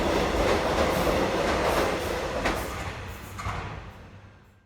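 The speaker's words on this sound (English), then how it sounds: "train rockets past." A train roars past at speed in a video game, a loud rushing rumble with faint rail clatter that gradually fades away toward the end.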